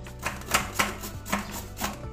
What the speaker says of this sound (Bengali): আমি ঘষে নিচ্ছি